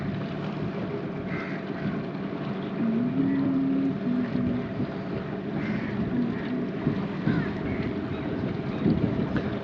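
A boat engine drones steadily while the boat is brought in to park near Suvarnadurga fort on the Konkan coast, continuous and fairly loud with wind buffeting the microphone and a faint tonal whine in places.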